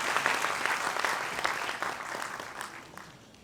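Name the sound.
audience applause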